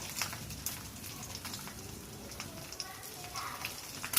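An egg with garlic fries in hot mustard oil, giving a soft, steady sizzle with light crackles and pops, fairly faint and close.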